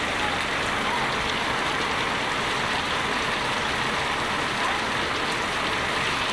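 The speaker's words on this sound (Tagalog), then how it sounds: "Ang lakas ng ulan guys, oh." Heavy rain falls in a constant, loud, even roar with no pauses, and a faint rumble of vehicles or engines sits underneath it.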